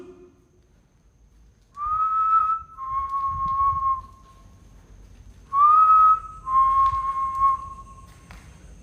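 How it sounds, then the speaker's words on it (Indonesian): A person whistles two short melodic phrases, each a rising note sliding down and held, with a quiet pause between them. "Gua coba bersiul dulu ya teman-teman ya."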